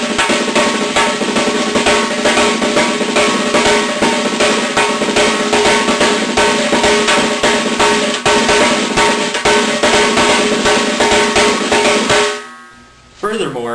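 Snare drum played solo in a dense, fast run of double stroke rolls with accented rhythms, loud and close for about twelve seconds before ringing out and stopping.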